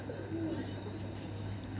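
Pigeons coo faintly and steadily in a rooftop loft among a breeder's flock, their soft voices blending into a constant low background hum with no clear breaks.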